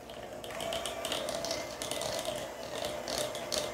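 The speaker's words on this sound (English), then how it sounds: "I'm going to use my handheld electric mixer" A handheld electric mixer beats cream cheese, sugar and peanut butter in a bowl. It makes a steady whirring, rattling drone close by, with the stiff mixture adding a slightly uneven churn.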